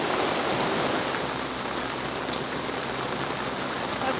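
Heavy rain at sea pours down aboard a sailing boat, a steady, dense hiss that stays loud and unbroken throughout, with no voices.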